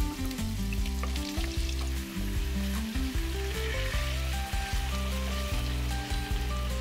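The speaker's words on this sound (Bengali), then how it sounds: "এবার কেটে রাখা আলুগুলো দিয়ে হালকা করে ভেজে নেব।" Sliced potatoes sizzle steadily in hot mustard oil in a wok, a close, continuous frying hiss with a low bubbling undertone and no talk.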